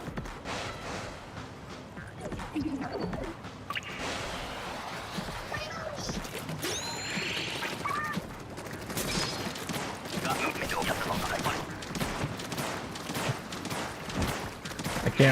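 Tenta Missiles launching and landing in Splatoon 3 during an online match, a stretch of busy, overlapping whooshes and bursts mixed with game effects and music, with a person talking over it.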